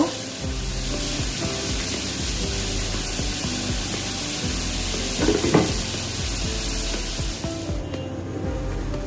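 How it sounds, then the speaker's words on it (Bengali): Malabar spinach, prawns and spices stirred together in a hot pan, giving a dense steady sizzle with occasional scraping stirs, close and continuous before quieting near the end. "এখন আমি পুঁই শাকগুলো দিয়ে দিব। ভালো করে নেড়ে চেড়ে মশলাটা আমি এখন মিশিয়ে দিব"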